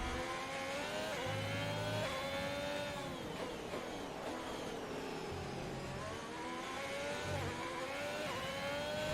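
A race car in the F1 2022 game accelerates through corners, its engine whining up and down in repeated rising sweeps as it shifts and pulls out of bends, fairly quiet and steady with no talk.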